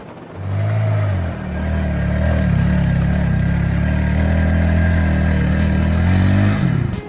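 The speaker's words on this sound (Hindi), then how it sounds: "जूं जूं गाड़ी ऊंचाई की तरफ जोर लगाती है" A motorcycle engine strains up a steep mountain road on a hiking track from Islamabad toward KPK, giving a loud, steady, labouring drone that holds for several seconds before cutting off, with no talk.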